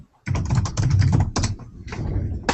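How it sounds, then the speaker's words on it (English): Vigorous, rapid typing on a computer keyboard clatters steadily in dense bursts of key taps with brief pauses, heard close and alone without talking. "I can hear her typing vigorously"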